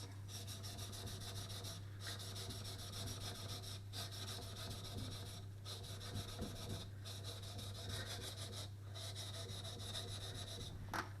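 A steel blade's polished lower bevel being thinned by hand on an abrasive, with steady rhythmic rasping strokes, each pass separated by short pauses, faint and close over a constant low hum.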